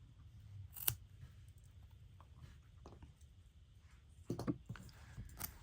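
Scissors snip through crochet yarn in a few quiet, sharp clicks, one early and a cluster near the end, close by against a soft, near-silent background with no talk.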